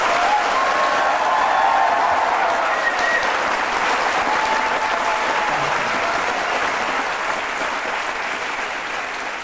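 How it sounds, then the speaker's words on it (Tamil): A studio audience on a Tamil courtroom-style talk show applauds steadily, a dense, loud wash of clapping that holds for the whole stretch and tapers only slightly near the end. "இவங்க கைத்தட்டல அவங்க எந்த அளவுக்கு உங்களை ஆதரிக்கிறாங்கன்னு தெரியும்."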